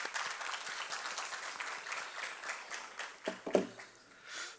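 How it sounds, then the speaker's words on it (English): Audience applause at an annual convention as a vice president is welcomed to speak, a faint dense clapping throughout with a few louder near claps toward the end, no talk. "With a hearty, hearty applause, please welcome the Vice President of Nosplan, Jalaj Rana."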